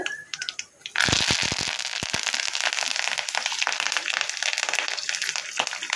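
Mustard seeds and urad dal spluttering in hot oil for a peanut rice tempering, a sudden burst of dense crackling and popping that keeps sizzling loudly and steadily, close by.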